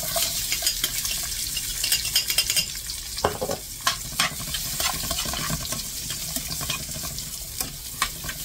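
Chopped onion and garlic frying in a little oil while being stirred, a loud close sizzle broken by repeated scraping and clinking of a utensil against the pan, with no talking.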